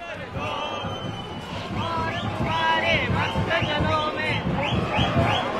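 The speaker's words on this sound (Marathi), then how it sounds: "लालबागच्या राजा दरबारामध्ये जल्लोष सुरू झालेला आहे।" A dense festival crowd cheers and shouts continuously at the Lalbaugcha Raja Ganpati procession in Lalbaug, Mumbai, with young people celebrating loudly in a steady, close roar of mixed voices.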